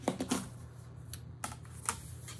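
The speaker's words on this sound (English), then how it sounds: "and I will trim that seam allowance" Scissors trimming the seam allowance on the corners of a cotton quilt block, a few quiet dry snips and fabric rustles close by, with no talking.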